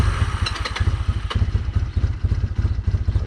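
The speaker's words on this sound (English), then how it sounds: "Let's see if we can start it no choke." A cold motorcycle engine fired up without choke settles into a rough, uneven idle, loud and close, with irregular thumping pulses and a brief rev near the start.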